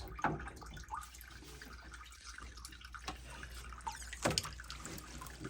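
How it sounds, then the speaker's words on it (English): Water slowly draining from a Tekmar 741 motorized mixing valve body during a leak repair: faint trickling and intermittent drips, quiet and close, with a few clinks and handling noises. "then we'll just let the water slowly drain out so we don't make a huge mess"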